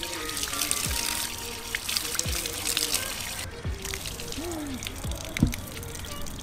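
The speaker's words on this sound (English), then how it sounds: "Then you need to wash through your legs as well." Water splashes and trickles as legs are washed for wudu ablution at a village mosque in Tamil Nadu, India, a steady running flow with scattered drips and splashes and faint voices in the background.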